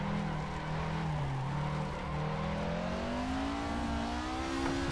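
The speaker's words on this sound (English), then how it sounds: "Car sounds amazing though, it really does." Classic MK1 Ford Escort hot rod in a wet-weather Assetto Corsa race, its engine droning loud and steady and climbing in pitch as it accelerates, with no talk over it.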